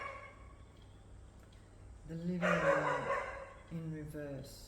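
A dog barks a few times outside a living room, mid-loud bursts that stand out over a speaking voice.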